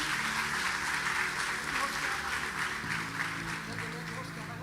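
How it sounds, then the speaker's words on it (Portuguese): A church congregation applauds loudly during a service, with steady, dense clapping from many hands filling the space, sustained throughout alongside music and some voices. "Aplauda Jesus bem forte aí."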